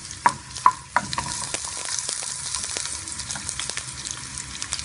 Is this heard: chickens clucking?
no